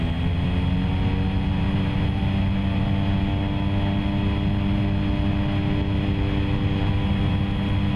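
Propeller airplane engine in the X-Plane 11 flight simulator throttling up, a steady loud droning hum with layered tonal harmonics holding constant throughout, no voices.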